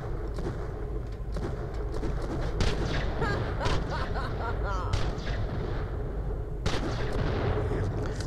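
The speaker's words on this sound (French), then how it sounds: "deux mecs qui savent pas tirer qui se tirent dessus." Rapid gunfire from the video game Borderlands: The Pre-Sequel, a dense stream of sharp shots and bursts throughout with some booming impacts, loud and continuous.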